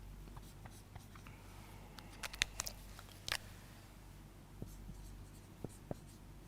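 Marker or pen writing values on a board during a mathematics lecture, with quiet scattered taps and short strokes at low level, no talk.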